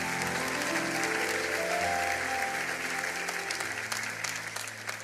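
A church congregation applauds in a dense, continuous wave of clapping that holds loud and fairly even, then begins to thin and fade toward the end.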